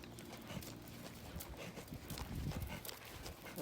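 A working horse walks away from the camera, its hooves clip-clopping in a steady, fairly faint rhythm that grows a little louder partway through, with no one talking.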